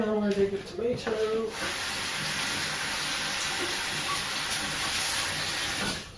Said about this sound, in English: my bathroom, one of the taps is like always leaking.